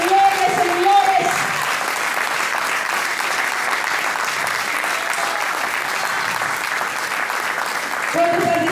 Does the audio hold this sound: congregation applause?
yes